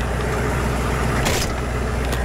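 A big diesel engine in a 2009 military Hummer H1 pulls off with a loud, steady, close rumble and a brief surge about midway. No one talks.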